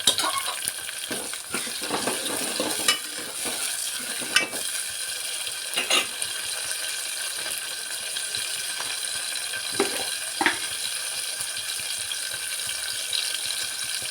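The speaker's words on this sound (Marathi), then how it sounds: "मिरची तळल्यानंतर थोडी टमाटर टाकायची." Tomatoes frying and being stirred in a pan with chilies already fried in the oil, a steady sizzle with occasional scraping stir strokes, close and alone without talk.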